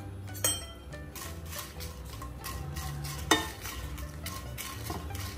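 Byadgi red chillies fry in a little oil for bisibelebath spice powder, with soft stirring scrapes and light pan clinks over a faint sizzle, plus two sharper utensil knocks; no one speaks.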